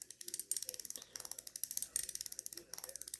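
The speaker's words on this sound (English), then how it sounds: "This ratchet here is probably the creme de la creme if we're talking ASMR here" Rapid, crisp ratchet clicks from the grip of an OG Produce wireless tattoo pen, ticking in close, even bursts with a few short pauses and no talking.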